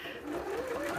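A home sewing machine backstitches fabric for an Advent calendar, whirring steadily and close with a rising motor hum and a fast needle rhythm, while a voice talks over it.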